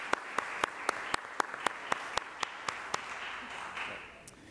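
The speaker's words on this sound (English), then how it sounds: "Round of applause, please." At a community conversation event, a handful of sharp, evenly spaced claps ring out over a quiet room. The sparse applause thins out and stops after a few seconds.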